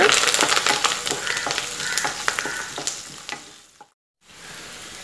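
Chopped onion fries and is stirred in a pan, giving a dense sizzle with scraping clicks from the spoon that fades out, drops to a moment of silence, then returns faintly.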